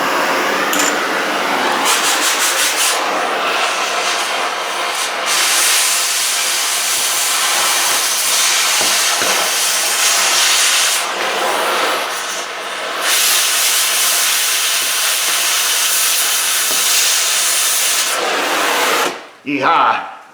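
Cutting into a Jeep Compass axle beside the threads, a steady, loud, continuous abrasive hiss running nearly twenty seconds with brief dips, then a short break and a final burst.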